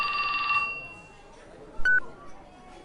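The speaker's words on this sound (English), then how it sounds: "His phone rang." A phone rings in the video game 428: Shibuya Scramble: a short electronic ringtone at the start, then a brief second chime a moment later, clear over quiet background ambience.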